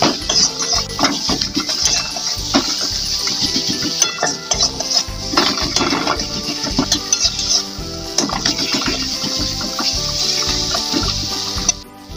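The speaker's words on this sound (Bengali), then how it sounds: "এবার প্রায় বেশ কিছুক্ষণ ধরে আমি এই মশলাটাকে একটু ভালো করে কষিয়ে নেব।" Turmeric spice masala for fish curry being stir-fried in a pan, with loud, close, rapid clatters and scrapes of a utensil over a steady sizzle that stop abruptly near the end.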